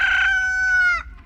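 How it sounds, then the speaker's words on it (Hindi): A rooster in a movie scene crows once, a loud, close, sustained cock-a-doodle-doo that holds steady for about a second and then drops off abruptly. "देखा आपने, मुर्गा भी अभी बांग दे रहा है, जिसका मतलब अभी सुबह हुई।"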